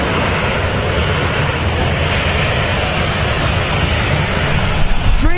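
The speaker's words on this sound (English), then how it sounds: "Dreamliner coming out!" Boeing 787 Dreamliner at Manchester Airport, a broad, steady roar of jet engines that fills the whole stretch at fairly close range, with no break.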